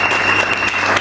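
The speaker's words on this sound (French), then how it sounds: "Est-ce qu'on peut les recevoir pour les acclamations?" A church crowd at an anniversary celebration applauds in a dense, continuous wash of clapping, loud and full for a brief moment.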